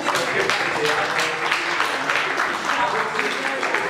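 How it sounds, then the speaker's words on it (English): A crowd at a Miami Beach community speakers' forum on a light rail project claps continuously, a dense, even wash of applause filling the room with a speaking voice faintly underneath. "Can we please give them some applause?"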